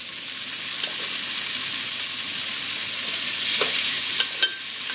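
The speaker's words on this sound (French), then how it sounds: "Je vais rajouter mes oignons pour un peu les faire dorer." Chicken thighs with onions browning in a hot pan, seasoned with paprika, give a steady, loud sizzle throughout, broken by a few sharp clinks of a utensil stirring.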